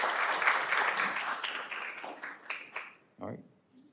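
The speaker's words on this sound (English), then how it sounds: "Let's give her a round of applause also." An audience at an evening student recognition gives a round of applause, a mid-level clapping burst that thins into scattered claps and then fades, with a voice briefly heard at the end.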